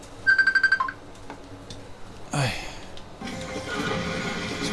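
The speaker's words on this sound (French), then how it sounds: "j'ai le téléphone qui a sonné" A telephone gives a quick burst of rapid electronic beeps near the start, followed by softer clatter and a steady wash of noise from a Dreamcast arcade shooter game.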